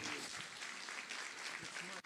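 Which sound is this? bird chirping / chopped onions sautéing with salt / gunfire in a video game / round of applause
round of applause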